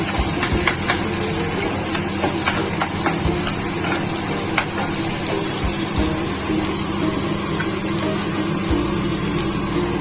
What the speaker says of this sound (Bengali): ভালো করে কষিয়ে, মাছের সাথে কষিয়ে